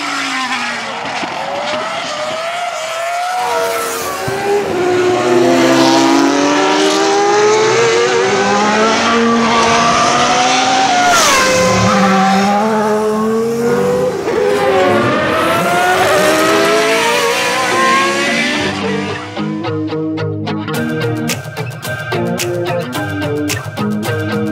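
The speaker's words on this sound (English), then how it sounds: "This is the 2004 McLaren, yeah. Ex-Kimi Räikkönen." A 2004 McLaren Formula 1 car runs on a race track, its engine screaming loudly with rapid rising and falling gear shifts throughout, and the tone fades toward the end as the car pulls away.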